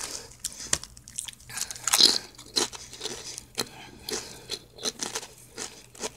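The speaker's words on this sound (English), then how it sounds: "And they're crunchy." Crisp crunches of Herr's cheddar horseradish potato chips repeat irregularly at close range, sharp bites followed by chewing, with a brief crinkle in the middle.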